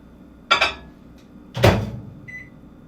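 A microwave oven being used to heat chocolate ice cream: two sharp knocks like the door shutting or buttons being pressed, then a brief high electronic beep, all close and with no talk.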